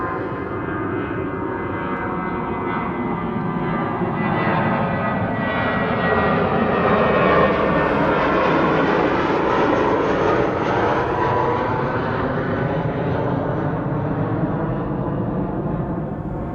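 A British Airways jet airliner departs Amsterdam Schiphol Airport for London Heathrow on a sunny winter day, its engines a sustained, broad roar that swells toward the middle and then slowly eases, with no talking.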